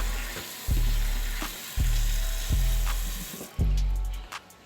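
Peeled potatoes are rinsed under running tap water for a shepherd's pie, a close, steady rush of water interrupted by several dull thuds as the potatoes are handled.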